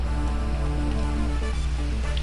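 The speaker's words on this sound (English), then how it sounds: "Here we go with the rain again." Steady rain from the Fire Emblem video game plays as a continuous hiss of falling water layered under a looping game music track, even and unbroken throughout.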